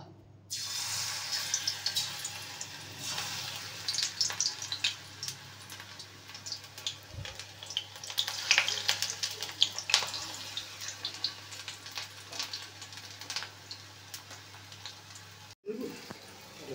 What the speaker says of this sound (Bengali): এইভাবে একে একে বড়াগুলোকে ভেজে নিলাম।